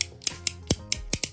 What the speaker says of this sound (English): fidget cube